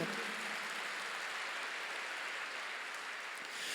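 A church congregation applauds steadily, a dense wash of clapping hands holding even and unbroken for a few seconds with no voice above it.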